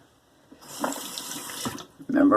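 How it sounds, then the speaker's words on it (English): Tap water runs briefly into a sink while a shaving razor is rinsed, a soft, close splashing that swells and ends with a louder gush. "rinse your razor regularly so it doesn't clog"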